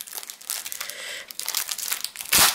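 Crinkly plastic packaging rustles and crackles as it is handled and pulled open, with a louder crunch near the end.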